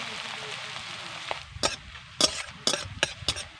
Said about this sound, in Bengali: পেঁয়াজকে আমি নরম করে ভেজে নেব